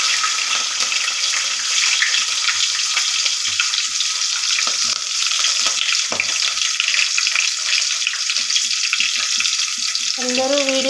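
Chopped green chilies and onion go into hot oil already holding dried red chilies and mustard seeds, giving a loud, steady sizzle and hiss that runs throughout with little change.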